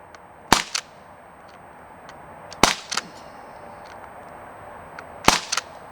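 Three sharp shots from an Umarex Canex CO2 air rifle fired outdoors at clay targets, each a crisp crack followed by a quick second snap of impact, spaced about two seconds apart with quiet between them.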